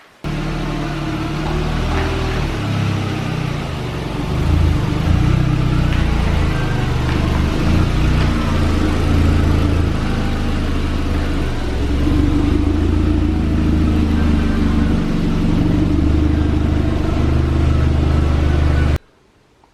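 Engine of a VW Golf GTI track car running while the car drives, a loud steady low rumble with slight rises in pitch, close and continuous, no talk.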